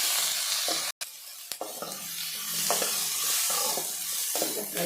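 Onion, green chilli and tomato fry in a pan for mutton saaru, a continuous close sizzle broken by a few scraping stirs of a spoon, with no talking.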